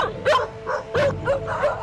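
A dog barks and yelps in short, tense bursts while being driven off with thrown objects, several close, loud cries in quick succession with a whining edge.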